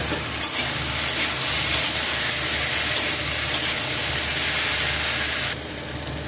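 Chopped ash gourd and pumpkin pieces sizzle and fry steadily in a hot pan, a loud continuous hiss with faint stirring scrapes that eases slightly near the end.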